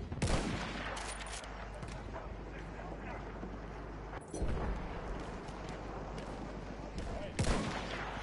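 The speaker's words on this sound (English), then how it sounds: "my bullets are just cruising past the people, man" Battlefield 1 combat with a loud, dense barrage of gunfire and blasts, several heavy booms punctuating the steady rattle, while a voice talks over it.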